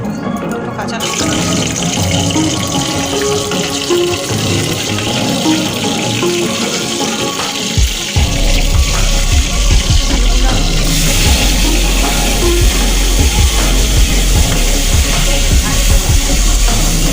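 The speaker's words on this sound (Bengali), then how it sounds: "আলুটা আমি লাল করে ভেজে নেবো একদম, যাতে সেদ্ধ হয়ে যায়।" Potatoes frying in hot refined oil with whole garam masala and green chillies, a loud continuous sizzle and hiss that grows fuller and rougher partway through, close to the pan.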